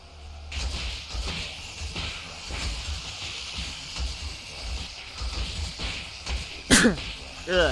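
A single abrupt sneeze bursts out near the end, loud and close, following several seconds of busy background game noise.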